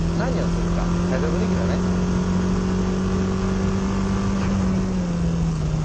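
A low car engine holds a steady drone as a car slides sideways in a drift, droning continuously and close by with faint rising rev tones, with no other sounds standing out.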